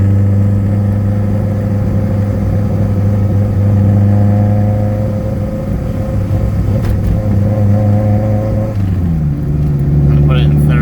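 Honda CRX with a ZC block and D16Z6 head, naturally aspirated, revving through a second-gear pull; a loud, close engine drone holds steady, then drops and climbs again toward the end, with a voice talking over it.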